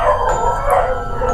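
Dogs howl in long, wavering tones around midnight near an old ruined royal fort, the loud, sustained cries close by and uninterrupted.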